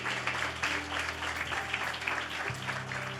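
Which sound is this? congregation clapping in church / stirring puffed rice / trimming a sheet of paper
congregation clapping in church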